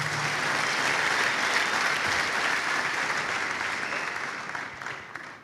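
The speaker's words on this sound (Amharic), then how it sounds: "አጨብጭቡላት።" An audience breaks into loud, sustained applause for a girl at a Glory youth event in Damascus, the clapping dense and even before it slowly tapers off toward the end.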